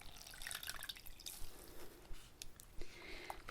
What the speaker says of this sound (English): just going to soak this rag here, and this is mostly just water